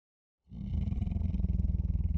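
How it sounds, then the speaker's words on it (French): A monster roar sound effect: a deep, loud, guttural roar with a rapid pulsing growl that starts suddenly and holds strong throughout. "Les bruitages de monstres, c'est toujours compliqué, hein."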